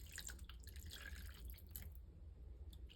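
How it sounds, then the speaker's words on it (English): Water from a kitchen tap runs into a soup pan, a faint, steady trickling and splashing with small drips, heard alone at low level. "I'm going to just fill up my soup pan with some water"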